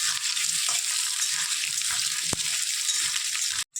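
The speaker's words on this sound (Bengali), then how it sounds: "তেল গরম হয়ে গেছে, আলুগুলো দিয়ে একটু নাড়াচাড়া করে দেব।" Potatoes fry in hot oil in a wok and get stirred, a steady close hiss and crackle broken by a sharp clink of the utensil midway before cutting off abruptly.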